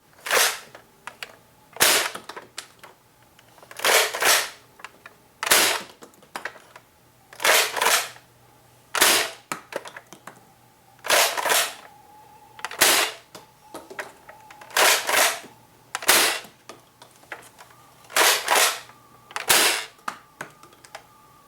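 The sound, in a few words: Nerf Longstrike blaster firing darts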